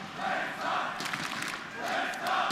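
A large arena crowd at a CS:GO semifinal between FaZe and SK at ESL One Cologne 2017 roars and chants in swelling waves, loud and sustained with rhythmic surges.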